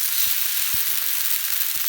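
Food fries on a sac pan over a wood fire, a loud, steady, close sizzle with faint scattered crackles and pops.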